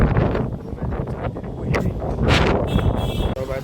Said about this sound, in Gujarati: પવન જો અવાજ આવતો હોય છે તમને પવનનો, બહુ પવન છે ભાઈ